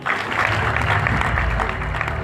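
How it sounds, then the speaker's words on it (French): Evening event crowd applauding themselves, a loud, dense wash of clapping with a low rumble of room noise, continuous and near throughout. "Est-ce que vous pouvez vous applaudir?"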